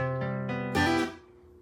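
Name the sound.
guitar chord picking with hammer-ons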